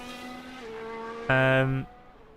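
A Formula 1 car on a fast qualifying lap at the Singapore Grand Prix whines in sharp tonal engine notes that climb, then jump louder briefly before cutting away.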